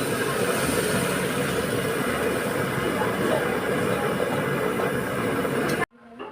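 Water poured into a pan of frying spice paste for a pomfret fish jhaal, raising a loud, continuous, roaring sizzle close up that holds steady and then cuts off abruptly near the end.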